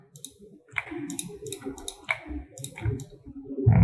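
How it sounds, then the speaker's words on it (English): Close, dry mouse clicks on a computer, several quick taps spread irregularly through a quiet room, with no talking. "just click this button here"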